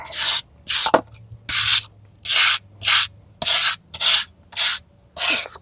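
Burnt surface of a chainsaw-carved wooden piece rubbed by hand, about ten even back-and-forth scrubbing strokes in a steady rhythm, close and clear with short pauses between each pass and no talk.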